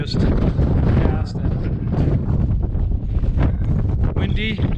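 Strong gusts roar and buffet the microphone on a mountain trail below the summit of Mount Pierce, loud and continuous, with a person's voice partly heard beneath the blustering.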